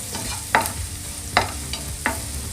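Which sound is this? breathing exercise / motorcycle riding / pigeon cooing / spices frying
spices frying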